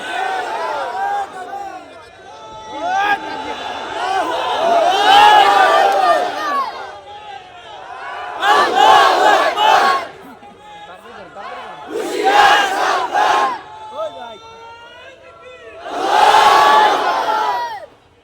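Large crowd at a Bangladeshi Islamic waz sermon loudly chanting takbir in call-and-response bursts, four surges of massed voices rising and falling, close and powerful.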